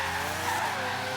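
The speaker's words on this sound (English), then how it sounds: "I just want to get this drifting." Tires squeal continuously as a car drifts in Forza Horizon 3, a steady skidding screech over engine drone held at even loudness for a moment, with no voices.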